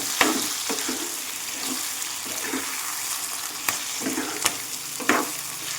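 Chicken liver sizzles and fries in a pan while being stirred, a continuous close hiss broken by several scraping stirs, with no voice over it.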